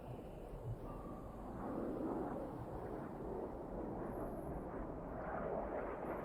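An F-16 Viper jet in the DCS video game rolls down the runway for takeoff, its engine a deep, continuous roar that swells slightly and then holds steady, with no speech over it.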